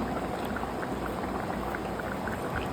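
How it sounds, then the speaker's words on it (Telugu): A pot of fish curry seasoned with ajwain boils hard, a dense continuous bubbling and popping heard close up and alone. "చూసారా ఎంత బాగా ఉడుకుతుందో."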